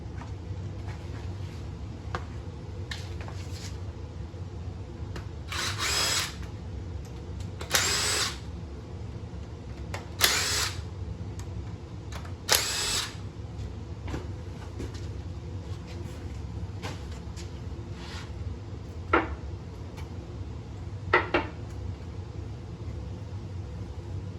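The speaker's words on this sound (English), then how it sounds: "let's pull the cylinder head off, see what we're working with" A power tool fires in several short bursts while the cylinder head comes off an LS engine in a turbo LS M3 build. The bursts are spaced apart over a steady low background hum.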